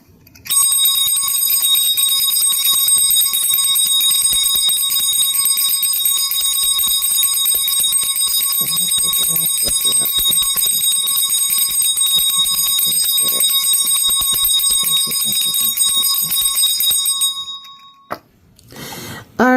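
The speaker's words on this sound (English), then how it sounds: "I'm going to ring my bell to close out this reading" A bell rung to close a tarot reading sounds as a long, bright, sustained metallic ring, steady and loud for most of the stretch, then cuts off and gives way to a few soft knocks and handling sounds.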